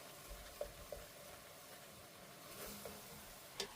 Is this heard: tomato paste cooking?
yes